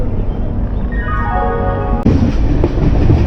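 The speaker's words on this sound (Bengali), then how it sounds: "ট্রেন এবার ছেড়েও দিল।" The Shatabdi Express leaves the station and runs, rumbling close with a tone rising partway through, then a sudden jump to louder rolling clatter.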